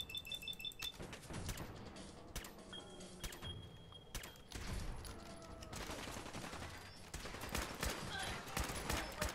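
Video game gunfire in Fallout 4, dense bursts of rapid shots and sharp cracks with clanking mechanisms, loud and sustained throughout, with a voice speaking over parts of it.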